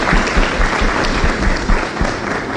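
Short burst of audience applause at a public forum on implementation of the RTI Act, dense clapping from a hall crowd, loud and close.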